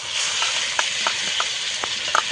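Poppy seed and nut paste with ground cumin sautéing in a pan, giving a steady close hiss of sizzling with a few soft scrape clicks from stirring, no voices.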